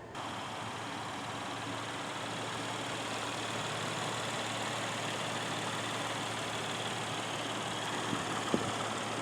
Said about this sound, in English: taking a quick look under the hood just so you can kind of hear the engine run